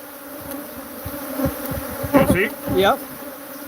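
Angry bees buzzing around a honeycomb: a steady, close swarm hum with individual insects droning past, while people talk briefly over it.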